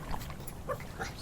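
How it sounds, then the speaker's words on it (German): Dog in the point-and-click game Back in the Swamp giving a few short, soft whimpering yips, quiet and intermittent over a low background hum. "Oh, da ist ein Hund."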